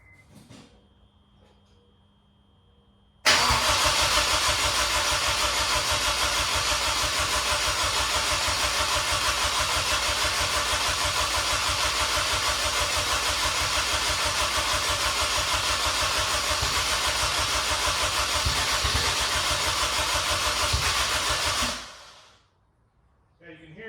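A Honda S2000 with low fuel pressure cranks for almost twenty seconds without catching, a loud, close, continuous starter whir and engine churn that cuts off abruptly, with quiet before and after.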